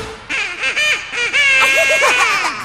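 Voices sing rhythmic quack sounds in a children's song, imitating a duck leading a flock rather than a real bird. The nasal, honking syllables come in quick repeated bursts, loud and close.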